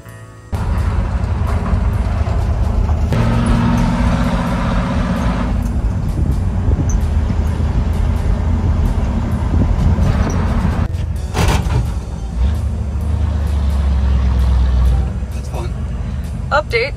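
A rollback tow truck drives down the road, a loud continuous engine and road rumble with cab rattles and shifts in tone, and people talk over it throughout.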